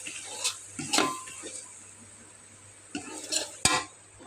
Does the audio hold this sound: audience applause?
no